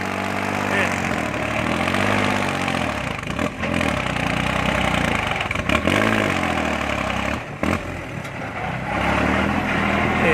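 A Kubota L3608 tractor engine runs steadily and loud throughout while digging out a pond, with a mid-pitched idling throb and brief dips in load.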